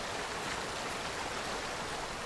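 Steady rushing stream and waterfall water in the video game Among Trees, a constant broadband wash that stays even and fairly soft throughout with no talk over it.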